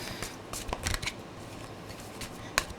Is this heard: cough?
no